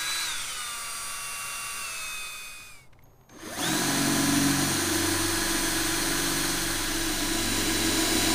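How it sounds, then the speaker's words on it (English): A power drill bores holes, its motor whining at steady speed and then winding down to a brief stop. It restarts and runs loud and continuous at close range. "Now I just have to drill these out."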